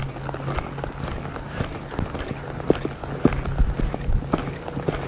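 Hooves of a reining horse loping on a circle beat a steady, moderately close clip-clop rhythm, with a low constant hum underneath and no talking.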